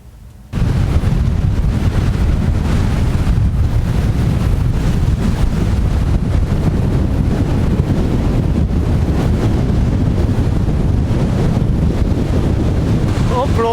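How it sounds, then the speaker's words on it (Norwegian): Strong gusting wind on the Hardangervidda mountain plateau in Norway, near-gale strength, roaring and buffeting the microphone continuously and loudly after a quiet first half-second. "Nå blåser det heftig her, altså. Det vel liten kuling, tenker jeg."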